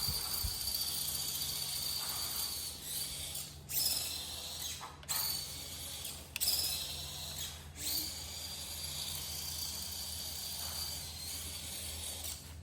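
An Injora Roverin 4800kv brushless RC motor on a 2S battery spinning the wheels freely, a faint high whine in short bursts of throttle separated by brief pauses.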